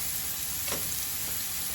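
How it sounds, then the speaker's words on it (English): Steady bright sizzling of food frying in a hot pan, continuous and close, with no talking. "I'm gonna let this here go ahead on and start frying on up"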